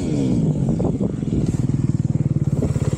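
A 2021 Yamaha YZ250 two-stroke motorcycle being ridden, its engine buzzing loud and close with a rapid, rising pulse that turns into a crisp rhythmic rasp toward the end.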